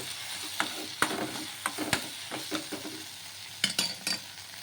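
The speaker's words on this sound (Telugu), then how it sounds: "కొంచెం పుదీనా పుదీనా కూడా వేసుకొని ఒకసారి బాగా కలిపేసుకుందాం" Soft pieces of tomato and mint are stirred in a frying pan for idli batter. A spoon scrapes and clinks in irregular strokes over a low, quiet sizzle, close up, with no talking.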